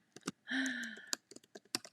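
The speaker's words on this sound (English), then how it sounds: "I was typing my email address." Scattered, crisp keystrokes on a computer keyboard as an email address is typed: a few quick taps, then a sustained tonal sound, then more separate clicks. No one speaks.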